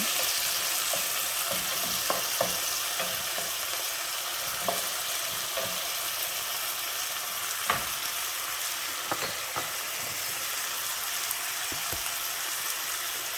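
Sweet onions stir-frying in a hot pan for a Thai dish, a steady close sizzle and crackle with occasional scraping clicks of a utensil stirring through the whole stretch, no voices.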